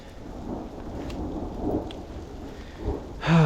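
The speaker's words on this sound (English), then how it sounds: "Waiting for a break in the hail potentially." A mountain thunderstorm with hail in Idaho, a steady dense patter and hiss with low rumbling swells, close and continuous, ending in a brief rising tonal sound.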